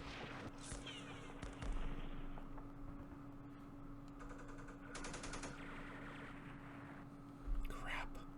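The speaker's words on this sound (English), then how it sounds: "Oh, that's the mortars." Mortar explosions in the war game Campaign Series Middle East land as several broad, rumbling bursts spread through the clip, the last one loudest, over a steady low battle drone with scattered gunfire crackle.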